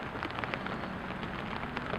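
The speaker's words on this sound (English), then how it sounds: "it's raining out though" Rain falling outdoors on a carp-fishing trip in October, a dense, even patter of drops close by with no voices.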